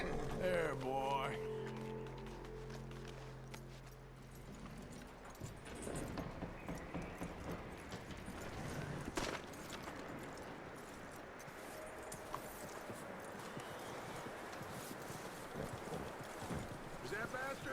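Horse hooves clip-clop and gallop in Red Dead Redemption 2, a steady rhythmic beat under game music and ambient noise, with a voice speaking over parts of the stretch.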